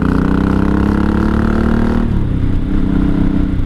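A 1983 Honda Shadow VT750C motorcycle engine running, a loud close steady throbbing idle that drops slightly in pitch midway, with no talk.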